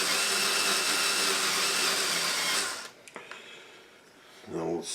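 A power drill runs slowly into wood while a nut is set for a DIY battery tester, a loud steady whir for about three seconds that then cuts off, leaving faint clicks and handling noise.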